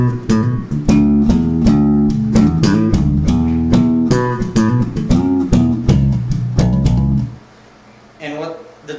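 Punchy slap bass plays a rhythmic groove of sharp thumps and bright pops, loud and close, ending with a short quiet tail.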